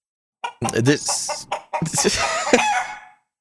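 A voice imitates a chicken, giving a burst of clucks and squawks and ending in a drawn-out crowing call, loud and close.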